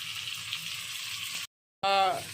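Chopped onion frying in a hot pan for Schezwan fried rice, a steady close sizzle that drops out briefly, then returns with a louder hiss.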